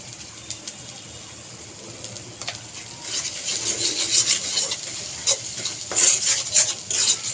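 A spatula stirs turmeric powder, red chili powder and salt in a cooking pan with scraping and light metal clinks, quiet at first, then busier and louder from about three seconds in.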